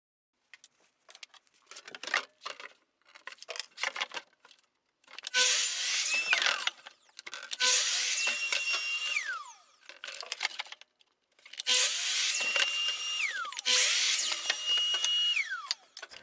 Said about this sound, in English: Next up I will cut the plywood to size